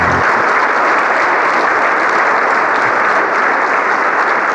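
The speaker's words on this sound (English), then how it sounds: "Give it a round of applause." Loud, dense audience applause at a robotics summit closing keynote, continuous clapping filling the whole stretch with no voices heard.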